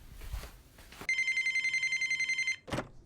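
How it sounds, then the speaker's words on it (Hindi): A telephone rings in a home setting, a single steady trilling burst of about one and a half seconds, clear and fairly close, with quiet speech before and a short voice after. "वापस जीत का फोन।"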